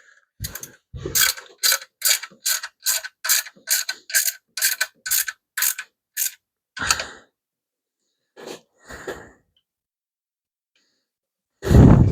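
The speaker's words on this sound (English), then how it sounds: "Use the small ratchets so we don't over torque them." A small ratchet wrench tightens engine bolts, with about a dozen quick, evenly spaced clicking strokes in a near, steady rhythm, then a few scattered clicks, a pause and a final louder clunk of tool handling.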